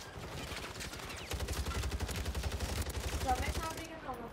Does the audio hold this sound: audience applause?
no